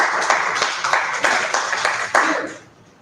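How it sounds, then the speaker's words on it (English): Students in a classroom clap together in a short rhythmic burst, around seven or eight regular collective claps that fade out quickly. "Clap for it."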